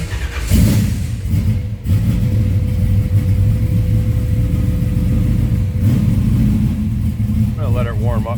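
A 1968 Chevrolet Chevelle SS V8 cranks, catches and settles into a loud, rumbling idle close up, with a brief rev and a short burst of talk near the end.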